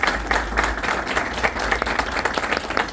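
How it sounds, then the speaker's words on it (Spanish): A lecture audience applauds a visiting doctor after his seismic engineering talk, steady dense clapping filling the hall for about three seconds with no voices over it. "Un aplauso,"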